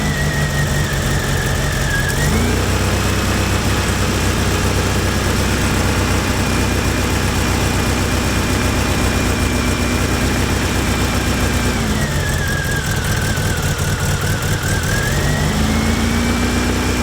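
A Fiat Panda 4x4 engine runs steadily after a timing belt and water pump change, its choke worked by hand, with a loud, close drone and a revving rise and fall partway through.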